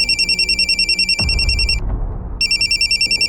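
A mobile phone rings loudly and close with a repeating electronic ringtone, which cuts off for about half a second, leaving a low rumble, then starts again.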